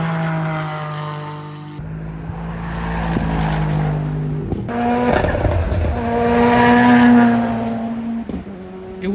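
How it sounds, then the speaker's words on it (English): Race car engines roar past one after another at the Pikes Peak hill climb, each rising to a loud buzzing pitch and falling away, with brief gaps between passes. "just hearing all the engines go by, seeing all the cars."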